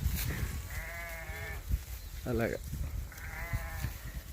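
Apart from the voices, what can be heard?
sheep bleating in a flock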